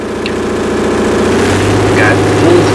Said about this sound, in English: So right now we got the engine running.